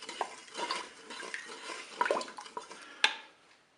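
A spoon stirs panna cotta mixture in a Cookeo electric pot, soft scraping and swishing broken by a few light metallic clinks against the pot, close and fairly quiet with no talk.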